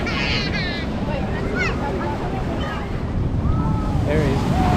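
Bigger waves after high tide wash in loudly on the shore at Fraser Island (K'gari), a continuous surf roar with wind buffeting the microphone while birds chirp faintly and intermittently over it.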